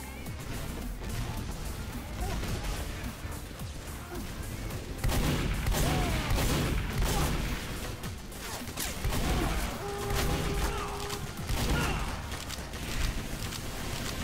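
Gunfire in a Team Fortress 2 match, repeated bursts of shots with impacts and movement noise, fairly loud and dense throughout, with little talk over it.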